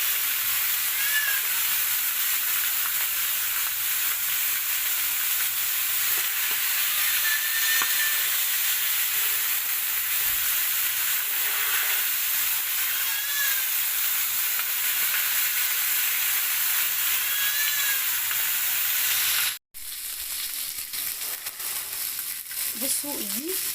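Marinated chicken sizzles on a lightly oiled grill, a continuous loud hissing crackle with scattered pops. A brief cut near the end is followed by the same steady sizzle.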